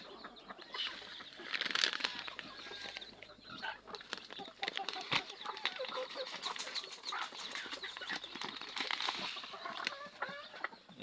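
Chicks and chickens of native black and red crossbreeds cluck, cheep and flap their wings in a coop, with busy overlapping calls and rustling that stay fairly near throughout, with no speech.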